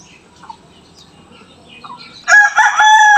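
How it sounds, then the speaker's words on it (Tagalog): A rooster crows loudly and close by after a couple of quiet seconds, its bright, harmonic call stretching to the end. "Yan po, labuyo"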